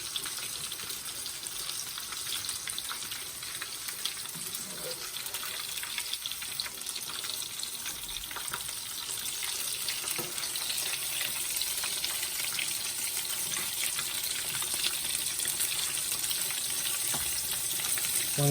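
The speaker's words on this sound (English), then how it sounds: "let me fry the fish first because it don't take long for the fish to fry" Breaded flounder fries in hot oil, a continuous dense sizzle and crackle holding steady and close for the whole stretch, with no talk over it.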